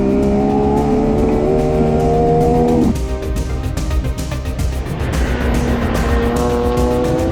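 Race cars including a BMW and a 240 corner hard at Streets of Willow during a time attack, with a heavy tire lockup. Loud engine roar with a sustained pitch that drops sharply partway through, then continues under squealing, scrubbing tires.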